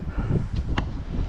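Wind buffets outdoors near Cruggleton Arch in Wigtownshire, a brief, close, low gusty rumble against the microphone.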